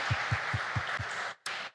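Church congregation applauding, a steady wash of many hands clapping with a regular low beat thumping underneath roughly five times a second, cutting out briefly before resuming.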